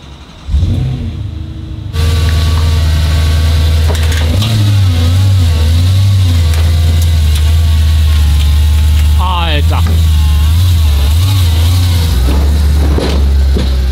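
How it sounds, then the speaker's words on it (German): An estate car's engine idles and revs in steady low bursts as the car drives up onto a car trailer, a continuous near hum with a short squeal partway through. "mein Kombi, und wir fahren mal einmal drauf"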